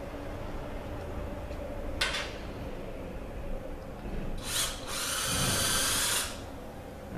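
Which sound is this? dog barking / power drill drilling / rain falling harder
power drill drilling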